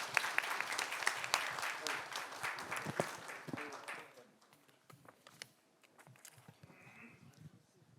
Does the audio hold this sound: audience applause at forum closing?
yes